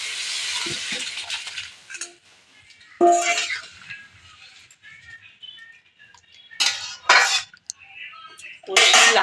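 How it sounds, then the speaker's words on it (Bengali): Bottle gourd tipped into a hot cooking pan with fried spices, giving bursts of clattering metal and clinking at intervals, with quieter stretches of scraping and stirring between them. "লাউটা ঢেলে দেবো"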